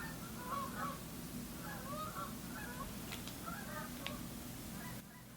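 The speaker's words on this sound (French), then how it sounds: "vous entendez, c'est les oies" A flock of wild geese returning in spring to Québec honks repeatedly outside an open window, the calls in scattered bursts over a steady background hum and fairly distant, with no talk over them.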